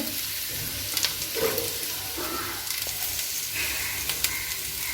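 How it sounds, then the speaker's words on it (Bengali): Bay leaf sizzling in hot mustard oil for a festive-style shukto, a soft steady fry with scattered small crackles and light pan clicks, fairly quiet and without voices. "গরম করে নিচ্ছি, সরষের তেল দিয়েছি, তেজপাতা দেব"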